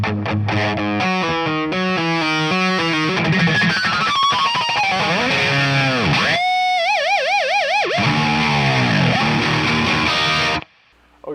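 A heavily distorted electric guitar plays fast alternate-picked triplets, then slides and bends into wavering, vibrato-laden sustained notes before cutting off abruptly near the end.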